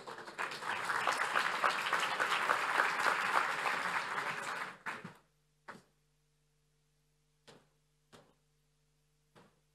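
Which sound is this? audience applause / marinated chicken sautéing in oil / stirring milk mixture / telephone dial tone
audience applause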